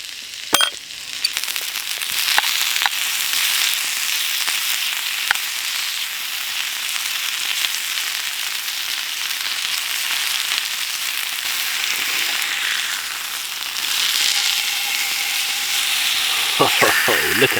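A sweet potato sizzles and crackles on a campfire during a cold-weather bushcraft trip, a continuous hissing fry with occasional sharp pops and snaps close by.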